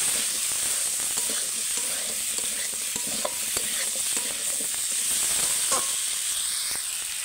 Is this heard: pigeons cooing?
no